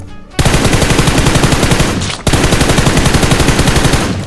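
Loud automatic weapon fire in the PUBG Mobile video game rattles out in two long, continuous rapid bursts separated by a brief break.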